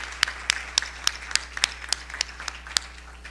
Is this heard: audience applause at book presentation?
yes